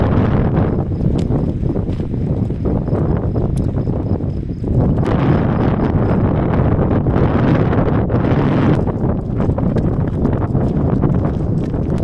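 Strong wind roars across an exposed mountain summit on a long-distance hiking trail, a loud, steady buffeting rush of microphone wind noise that fills the whole span with gusty surges and no pauses.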